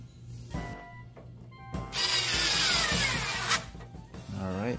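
A power tool tightens a bolt while a Koyo radiator is fitted to a Mazda RX7, giving short bursts and then a sustained loud whirring grind, close up, with faint low hum behind.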